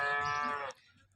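A dairy cow, a second-calving cow that is in calf, lets out a single close, loud moo that lasts most of the moment, then stops, leaving quiet barn ambience.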